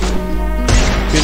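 Loud, sharp gunfire bursts ring out in a mobile shooting video game, two abrupt cracks with a ringing tail between them and no voice over the top.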